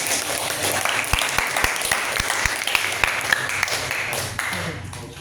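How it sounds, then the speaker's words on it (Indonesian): Applause from a classroom after a group presentation, a continuous spread of many hands clapping with scattered sharp, close claps standing out, fairly steady and unaccompanied by talk. "Oke, tepuk tangan."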